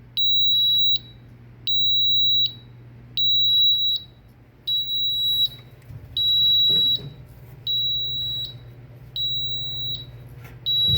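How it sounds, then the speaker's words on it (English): A pump motor fault alarm beeps steadily in a repeating on-off pattern, about one beep every 1.5 seconds, with a low motor hum running underneath. "if you lose one, you're gonna lose that motor. It's gonna stop, and you're also gonna get an alarm. And that's this alarm running"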